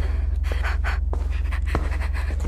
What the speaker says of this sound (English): Control your breathing, Nellie.